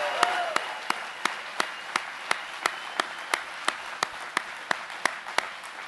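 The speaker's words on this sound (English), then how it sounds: "How about a big round of applause for the Milbanks?" A crowd at a political rally in Kansas City claps in slow, even unison, each sharp beat evenly spaced and clearly audible over a low background murmur.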